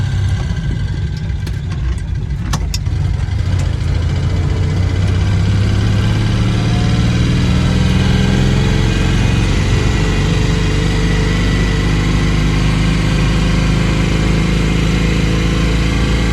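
An original-type Citroën 2CV's small air-cooled engine idles close by, a loud, steady, buzzing drone with a low throb that stays even for the whole stretch, a few faint clicks early on.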